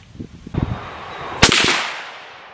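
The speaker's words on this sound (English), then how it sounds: "Let me shoot a fourth one." A single 350 Legend rifle shot fired at a 100-yard range, a sharp loud crack that rings out and decays over about a second, preceded by faint handling noises.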